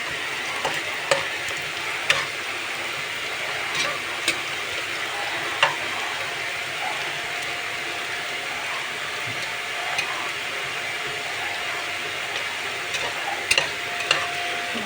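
Onions and green chillies fry in a pot for biryani, giving a steady, soft sizzle throughout with occasional small ticks and clinks from stirring, and no one speaking.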